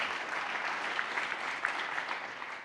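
Applause from the audience at a tech demo day event honoring the judges, a steady dense wash of clapping that holds at an even level throughout.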